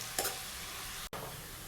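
Mustard seeds, onion, garlic and curry leaves fry quietly in a pan with a soft steady sizzle, one brief scrape of stirring near the start and a short dropout just past the middle.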